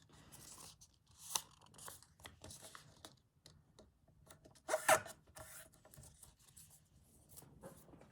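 Paper torn by hand for a William Morris-style junk journal, with a couple of faint, short rips over near-silence, one slightly louder near the end.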